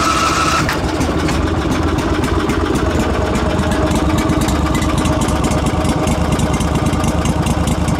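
Argo amphibious ATV engine fires up with a brief crank and catch, then settles into a steady, loud, rumbling idle that runs on close by without talk.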